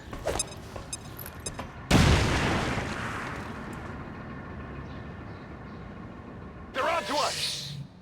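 A grenade detonates in the XCOM 2 video game with a sudden loud burst that decays into a lingering rumble, followed later by a second sharp impact; game voices call out over the scene.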